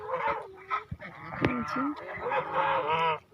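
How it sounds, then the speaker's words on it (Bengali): A flock of geese honking loudly and repeatedly by a river, overlapping nasal calls close by, with no talking. "কিছু রাজহাঁস, অনেক রাজহাঁস"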